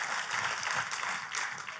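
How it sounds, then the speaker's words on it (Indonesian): A church congregation applauds in praise during a worship service, steady and enthusiastic clapping from many hands filling the room, close and continuous throughout. "Tepuk tangannya boleh yang paling meriah buat Tuhan kita."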